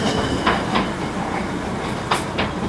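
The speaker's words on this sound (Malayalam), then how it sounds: "ഇത് ആവി എഞ്ചിനാ. സ്റ്റീം എഞ്ചിനാ." Darjeeling steam-engine toy train rolling in, a steady rumbling mechanical wash punctuated by a few sharp hissing bursts, moderately close with no talking.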